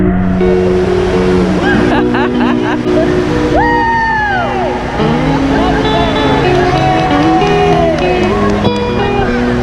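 Loud, steady rushing water fills the scene throughout, a continuous broadband roar with voices shouting and talking over it.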